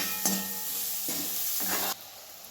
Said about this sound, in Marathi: मी मिरची आणि कांदा ही चांगलं मिक्स करून भाजूया बघा तेलात